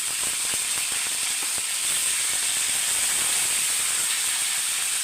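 Mustard seeds and cumin spluttering in hot oil for a Tamil no-onion, no-garlic dish with raw banana, a steady close hiss with dense scattered pops and crackles throughout, no talking.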